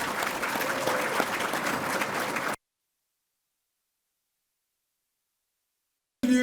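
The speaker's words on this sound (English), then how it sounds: "Let's have a huge round of applause for our inductees tonight" Audience applause for inductees at the 2025 Assumption University Athletics Hall of Fame ceremony, a steady round of clapping for a couple of seconds that cuts off abruptly into silence before a brief burst returns.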